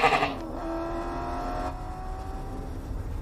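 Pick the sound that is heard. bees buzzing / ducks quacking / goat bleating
goat bleating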